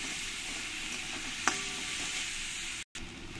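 Onions frying with salt in a pan give a steady, close sizzle that runs alone throughout, with one brief clink of a utensil midway and a short break near the end.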